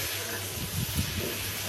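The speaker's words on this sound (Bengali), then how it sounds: "তো এদিকে লতি ভাজি করতেছি" Taro stolons frying in oil in a covered pan, a soft continuous hiss and sizzle with faint low bumps of stirring, quiet and steady throughout.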